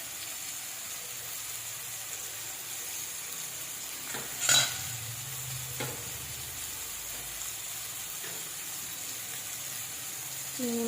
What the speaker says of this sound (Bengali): চিংড়ি মাছটা কীভাবে ভাজা হচ্ছে দেখুন